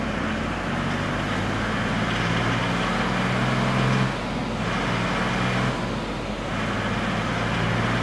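Diesel engine of a Mercedes W210 E300td fitted with a 7.7mm EDC pump, running on a dyno: a steady, loud drone with brief dips in tone as the gears shift, no talking.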